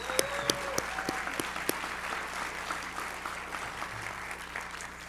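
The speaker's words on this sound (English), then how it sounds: "Let's give one more round of applause for our contestants." An audience applauds contestants at a business pitch challenge, a moderate, fairly distant round of clapping that gradually tapers, with a few sharper nearby claps early on.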